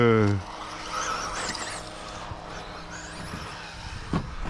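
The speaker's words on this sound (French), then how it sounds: "j'entends le slipper qui gueule aux reprises de gaz" An XRAY XB2 RC buggy runs on a track, its slipper clutch whining in short rising bursts as the throttle comes back on over the motor's whir, with a short voice at the start.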